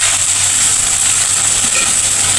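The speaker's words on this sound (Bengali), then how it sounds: "পেঁয়াজটা একটু ভাজা হবে" Chopped onions, four medium ones, fry in oil in a pan, giving a steady, even sizzle that stays loud and continuous with no voices.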